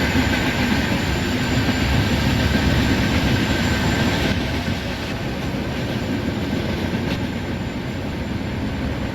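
A New Delhi–Bhubaneswar Duronto express runs in Indian Train Simulator, giving a steady, dense rumble of wheels and engine that holds loud and even throughout with a slight drop partway, and no voices.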